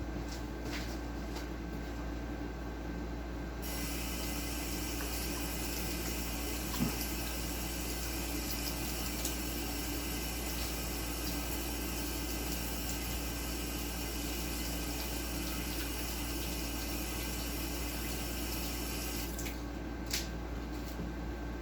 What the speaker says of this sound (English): Just gonna wash my hands and I'm a-coming.